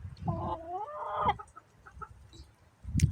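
Backyard hens cluck and squawk up close in a suburban coop, a drawn-out rising call at the start, then a scatter of softer clucks, and a sharp loud burst at the end.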